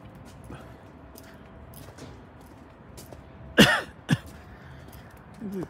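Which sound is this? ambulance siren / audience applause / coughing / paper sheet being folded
coughing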